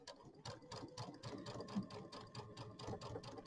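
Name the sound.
sewing machine stitching in the ditch along pumpkin satin stitch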